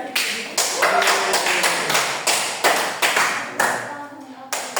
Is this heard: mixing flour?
no